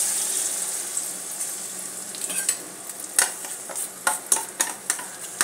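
A mixture for dhokar dalna hits hot oil in a pan, a low steady sizzle that builds into close, irregular crackles and spattering pops toward the end, no talking.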